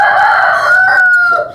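Lohmann Brown hens and a rooster on a farm in Pakistan give a loud, close crow with clucking, one sustained drawn-out call that fades at the end.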